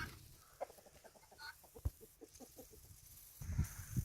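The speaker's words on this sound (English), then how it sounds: "Chickens don't care." Several chickens cluck in a steady, soft series of short, repeated notes outdoors in a weedy field, with a louder rustle near the end.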